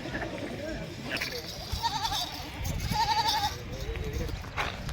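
Goats bleat at a monthly goat fair in Bilaspur village, Moga, a couple of short wavering calls standing out over a dense crowd murmur and nearby chatter.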